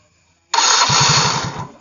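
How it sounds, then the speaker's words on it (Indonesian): A Yamaha Mio fuel-injected motorcycle engine cranks briefly after silence, then catches and runs loud and close for about a second before quieting, with no talking. "Sekarang tes, kita hidupkan mesin,"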